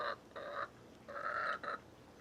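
Chickens squawk in the morning, several harsh nasal calls in a broken rhythm, moderately close and clear against quiet outdoor background.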